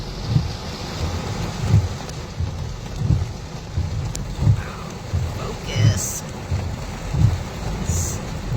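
Heavy rain pours steadily during a tornado-warned severe storm, with repeated low rumbling thumps rising every second or so over the constant wash of rain.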